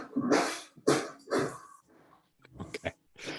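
A kitten makes a string of raspy, grumbling growls and hisses, several short grumpy bursts with brief pauses between them. The sounds are close, with no talking.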